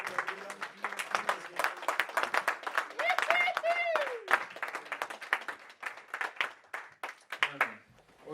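A church congregation applauds the preacher as he comes forward, dense steady clapping from many hands filling the room, with a voice speaking over the applause midway.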